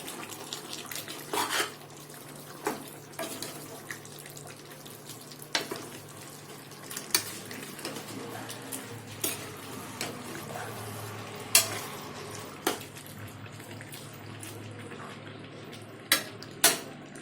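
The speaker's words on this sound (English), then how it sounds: "now we have to cook it for some more time. Stir it." Chicken curry with potatoes simmers softly in a pot while a spoon stirs it, leaving a quiet bubbling bed broken by scattered scrapes and knocks against the pot.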